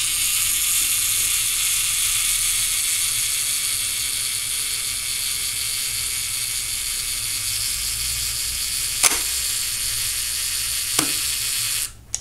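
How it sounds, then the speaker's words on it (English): The self-timer of a Zorki 4 film camera runs with a steady mechanical buzzing whir for about nine seconds, then two sharp clicks as the shutter trips and the mechanism stops. "Self-timer, and the self-timer on this camera is released with this button here."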